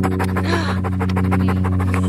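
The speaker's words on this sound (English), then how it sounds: "Just audio of him panting because the camera's literally next to his face" A hot dog panting right beside the microphone, a rapid, rhythmic run of breaths, loud and close over a steady low engine-like hum.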